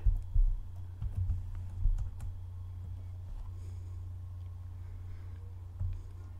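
Quiet clicks and taps of typing on a computer keyboard come in short bursts, with a few louder key presses standing out over a low steady hum.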